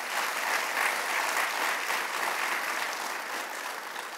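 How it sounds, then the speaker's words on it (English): An audience claps at a Medal of Valor award ceremony: sustained, dense applause from a large crowd, even and steady throughout with a slight fade toward the end. "Let's give a round of applause."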